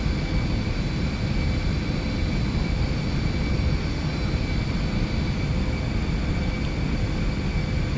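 Steady, loud engine roar of a light aircraft in X-Plane 11 climbing out just after takeoff in the southern Alps, a continuous broadband drone with faint tonal whines held evenly throughout.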